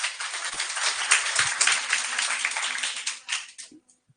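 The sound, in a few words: students clapping in a classroom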